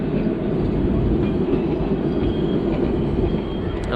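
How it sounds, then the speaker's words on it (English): A Blackpool Illuminations tram passing during the illuminations, a steady loud rumbling roll of wheels on track with no voices. "Here comes the famous train, the Illumination train."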